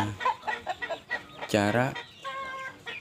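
Free-range village chickens on a small backyard farm cluck in short bursts near the microphone, with a loud drawn-out squawk in the middle and a brief spoken word.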